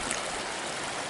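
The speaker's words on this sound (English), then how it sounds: "It is a lovely little trout stream." A small trout creek flows steadily, a soft continuous rushing and trickling of water heard alone at moderate distance with no voices.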